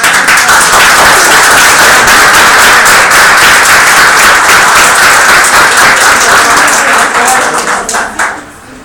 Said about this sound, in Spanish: Un aplauso nuevamente al